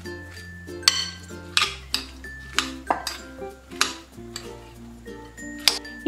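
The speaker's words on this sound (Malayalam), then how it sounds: "വൈറ്റ് ക്യാബേജും പർപ്പിൾ ക്യാബേജും ഇട്ട് കൊടുക്കാം. നല്ലതുപോലെ ഇത് മിക്സ് ചെയ്ത് യോജിപ്പിച്ചെടുക്കാം." Shredded white and purple cabbage is tossed in a dish with utensils, giving close, intermittent clinks and taps of metal against the bowl in an uneven rhythm.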